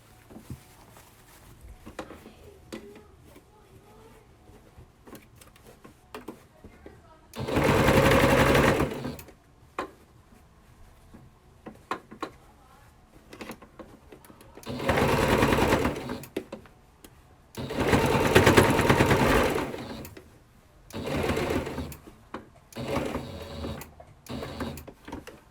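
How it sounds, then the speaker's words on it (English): A Singer Styles sewing machine runs in four separate loud bursts of rapid stitching as it works over a thick seam, with quieter handling noise and pauses between the runs. "my machine kind of struggled to go over that seam a little"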